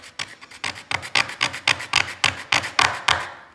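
A putty knife scrapes across a painted wooden sign in quick, rhythmic strokes, about a dozen loud, close rasping scratches in steady succession.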